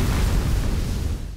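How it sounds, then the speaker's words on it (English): An explosion in Super Mario Galaxy roars as a loud, sustained low rumble that holds for over a second before slowly fading. "Cool guys don't look at explosions."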